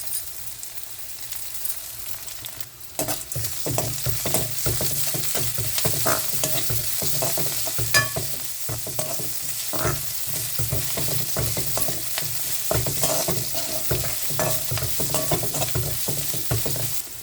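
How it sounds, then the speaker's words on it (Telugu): Ginger garlic paste fries with onions in a pan for banana curry, a continuous sizzle broken by repeated scraping strokes of a spatula stirring throughout. "ఉల్లిపాయలు ఇట్లా వేగిన తర్వాత కొంచెం అల్లం వెల్లుల్లి పేస్ట్ వేసుకుంటున్నాను"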